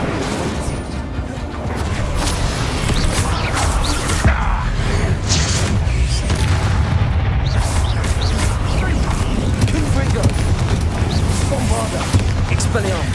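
Incendio fire spell cast in Hogwarts Legacy combat, loud whooshing and crackling bursts with crashes and booms layered over a continuous dense battle din, with game voices mixed in throughout.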